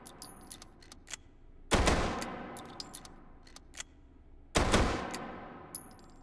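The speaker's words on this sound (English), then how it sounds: "it fires pretty fast and it reloads pretty fast." Gunfire from a weapon in the VR game Hot Dogs, Horseshoes & Hand Grenades: two loud, close blasts a few seconds apart, each trailing off in a long echo, with small metallic clicks and clinks between them.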